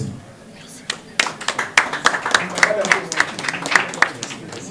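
A small crowd at a French-language gathering breaks into scattered hand clapping that builds into steady applause, with sharp individual claps standing out over background voices.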